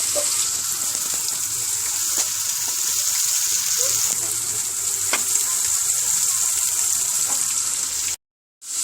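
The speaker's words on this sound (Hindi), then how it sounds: "हम इसके अंदर प्याज का पेस्ट डालेंगे और थोड़ी देर पकाएंगे" Onion paste frying in a pot for aloo gosht, a steady close sizzle with faint stirring scrapes and occasional pops, continuous until a brief cut near the end, with no talk.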